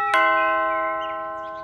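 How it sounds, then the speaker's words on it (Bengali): Calling bell pressed at the front door of a house, a single clear electronic chime that rings out loudly and then slowly fades. "সুমি সাহেব দরজার সামনে এসে কলিং বেল বাজালেন"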